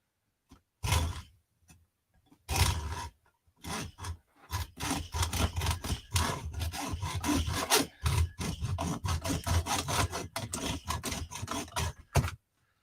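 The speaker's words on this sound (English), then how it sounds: "faithful hacksaw is going to have to come out again" A hacksaw cuts during the strip-down of carburettors in a workshop, with close, rasping back-and-forth strokes that start hesitantly and then settle into a quick, steady rhythm.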